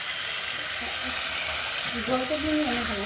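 Meat frying in gravy during kosha in a home kitchen, a steady broadband sizzle throughout with a soft voice briefly talking near the end.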